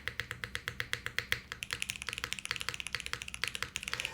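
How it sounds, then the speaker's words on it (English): Spacebar and keys on a plateless, PCB-mounted leaf-spring 60% Leviatán keyboard clack in quick, even succession, crisp and close, with no talking. "It's not quite as a bassy spacebar as like we've seen on a few other boards, but it is still a really nice spacebar."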